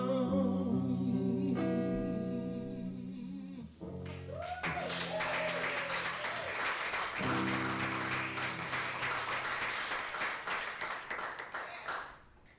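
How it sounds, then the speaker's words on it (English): Crowd applause with a dense patter of clapping over continuing music, loud and sustained for several seconds before tapering off. "Let's give them another round of applause."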